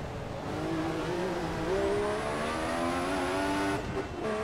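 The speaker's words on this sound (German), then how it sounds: "Wir sehen erstmal zu, dass wir wieder an die Box fahren." An F1 race car in the game F1 2014 runs steadily toward the pits, its engine drone rising in pitch as it accelerates, heard close and alone before it cuts off near the end.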